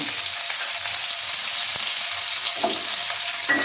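Crushed garlic fries in hot oil with tempering spices for a prawn and pointed gourd dish, an even, close hiss of sizzling throughout with a few light clicks, no speech.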